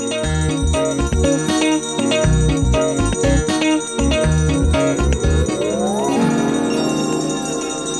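Bells ring continuously and loudly, layered metallic tones clanging in a steady rhythm, with a rising tone sweeping in near the end.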